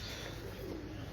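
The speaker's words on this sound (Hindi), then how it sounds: "लाल आंखों के कबूतर, ये जौंसरे कबूतर" Red-eyed breeder pigeons on a Lahore rooftop give a brief, soft throaty coo, close by against a dense background rumble.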